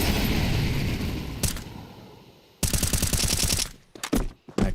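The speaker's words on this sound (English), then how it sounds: "Mag dump through the smoke." Sustained automatic gunfire in Counter-Strike 2 at a tournament match, a dense rapid stream of shots, a pause, then another long burst of loud rapid fire ending in a few scattered shots.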